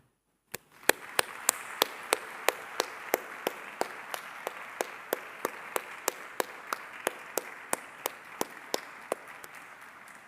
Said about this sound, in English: would you join me in a round of applause for the staff that have guided you through your qualification?